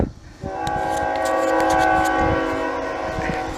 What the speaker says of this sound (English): the instant I hit record, the train whistle blows.